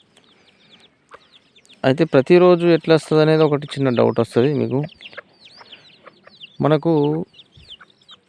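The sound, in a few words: native country chickens clucking on a farm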